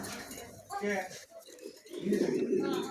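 Pigeons cooing in a pigeon-selling setting, soft repeated coos mixed under someone talking nearby.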